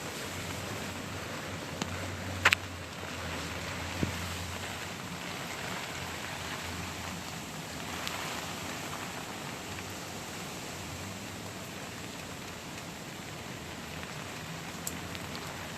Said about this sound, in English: Rain's starting to come in from the car cover.